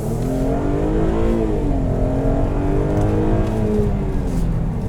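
A 2015 Mercedes ML 350 engine pulls hard and steady under acceleration, with a loud, continuous rising drone and road roar heard from inside the cabin.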